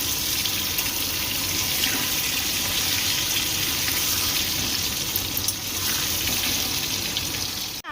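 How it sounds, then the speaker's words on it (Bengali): Potatoes frying in hot oil for an egg biryani, a steady dense sizzle that holds evenly and loudly throughout, with no talking over it. "লাল লাল করে আলু ভেজে নিতে হবে।"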